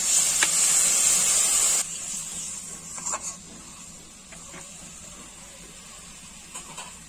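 Water poured into a hot pan of cooked-down spiced masala for a village-style fig and prawn curry, giving a loud, steady hiss that cuts off after about two seconds and leaves a quieter simmer with a few soft clinks.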